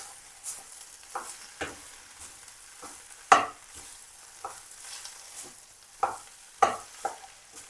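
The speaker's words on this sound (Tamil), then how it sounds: "இப்போ இதை நல்லா கலந்து விட்டு கொள்ளுவோம்" Vegetable roll filling with potatoes and curry spice powder stirred in a frying pan: a soft steady sizzle broken by sharp, irregular clacks and scrapes of the spoon against the pan, close and with no voices.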